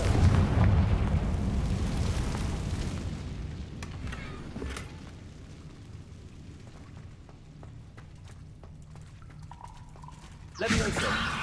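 A fiery Confringo spell explosion in Hogwarts Legacy bursts loudly at the start and decays into a rumbling tail, followed by quieter ambience and a second sharp blast near the end.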